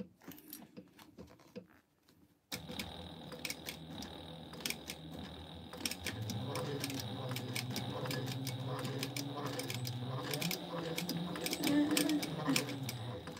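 A sewing machine stitches an ID wallet after a quiet start, its rapid ticking needle running in bursts with brief pauses, close and fairly soft, and a voice occasionally speaking over it.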